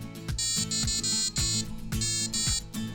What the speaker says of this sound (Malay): yang ini ialah piezo buzzer passive dan kami hantarkan signal tone ataupun signal frekuensi bunyi kepada buzzer ni untuk dihasilkan bunyi.